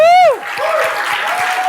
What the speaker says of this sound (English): Let's give her a little round of applause again.